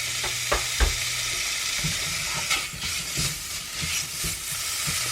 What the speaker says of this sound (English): I'm just going to fry that bacon up